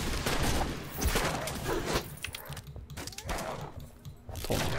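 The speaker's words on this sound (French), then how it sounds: "Attends, qu'est-ce qui me tire dessus?" Gunfire in the action role-playing video game The Incredible Adventures of Van Helsing, with rapid bursts of shots and impact thuds mixed with game effects, fairly loud and close, with some voice audible.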